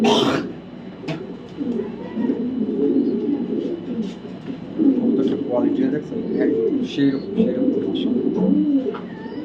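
A young 2023 female racing pigeon from the BRPOA club, a hen that has laid eggs and raised chicks, coos in low, rolling repeated phrases throughout, close by and steady, with someone talking over it.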